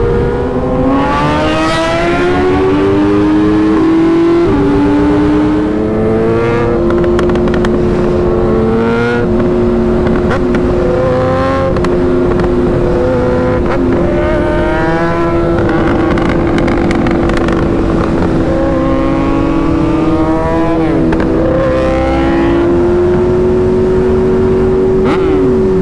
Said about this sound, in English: Some fantastic racing here in the filthy Cleveland area.